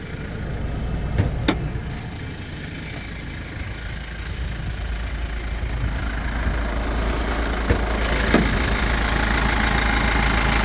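A 2011 Kia Sorento engine idles steadily with a low, even rumble and faint knocking, close by, with a couple of brief clicks and no voices.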